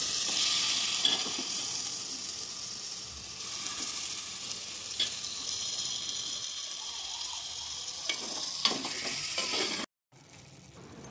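Chicken is added to a pan of fried onions, green chilies and ginger-garlic paste. It sizzles loudly and steadily, with stirring scrapes, a brief drop-out near the end, and then more frying.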